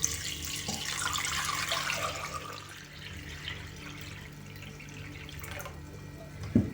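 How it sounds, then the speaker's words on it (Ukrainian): Cold water pours into a cloth-lined pot around glass jars for sterilizing, a steady splashing rush for a few seconds that then fades into quieter trickling and dripping, with no one talking. "По плечики банки наливаємо холодної води."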